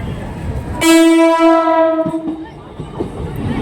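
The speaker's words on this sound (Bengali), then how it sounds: "local train" A nearby local train blasts a long, loud horn over the rumble and clatter of the passing cars, which keep rolling after the horn stops.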